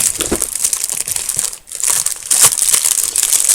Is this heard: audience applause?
no